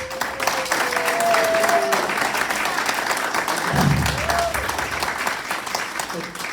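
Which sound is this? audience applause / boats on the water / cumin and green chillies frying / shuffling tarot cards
audience applause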